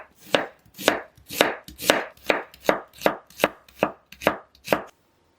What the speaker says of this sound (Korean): 양파는 가늘게 채 썰어주시고요